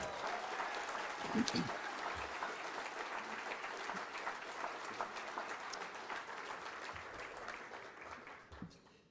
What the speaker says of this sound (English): I'd like to have a round of applause for all the young researchers currently in